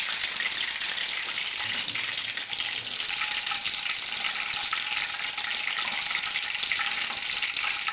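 Chicken shashlik sticks frying in oil over medium heat give a dense, even hiss that holds steady for several seconds, close by, with no talking.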